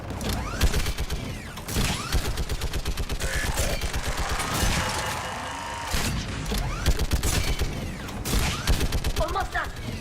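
Enemy gun turret in Mass Effect 3 firing dense rapid volleys with mechanical clanking through a long battle, loud and sustained, with voices speaking over the gunfire at times.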